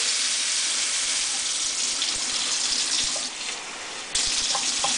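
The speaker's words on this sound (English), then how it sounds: "And now we're going to add the hot water to our dough" Hot water runs steadily from a tap into a bowl of dough over a sink, a constant close hiss and splash, dipping briefly before gushing on.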